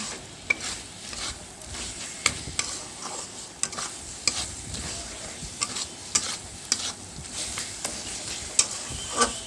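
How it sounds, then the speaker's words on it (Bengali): Spice masala for a Bengali chana paneer curry sizzles steadily in a pan while a spoon scrapes and stirs it, sharp clinks against the metal recurring every second or so over a soft, continuous frying hiss. "মশলাটা আমাদের ভাজা হয়ে গেছে"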